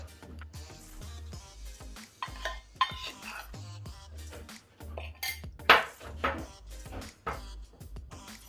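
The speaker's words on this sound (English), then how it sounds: "I've stopped using the whisk because I found the fork a lot easier to whisk" A fork whisking thick chocolate cake icing in a bowl, giving irregular clinks and scrapes of metal on the bowl in uneven bursts, with sharper taps partway through and quiet gaps between strokes.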